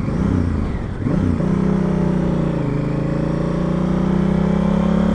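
A Honda CRF 1000 AT Africa Twin motorcycle engine runs loud and close, dropping briefly around a missed gear change before the revs settle into a steady drone.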